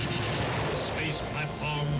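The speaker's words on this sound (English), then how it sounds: "The Great One himself sends the cosmic blast that atomizes rocket ship." A cosmic blast atomizing a rocket ship in a 1953 science-fiction film, heard as a continuous loud, rumbling roar with crackling, explosive texture that holds steady for two seconds, with a brief dip near the end.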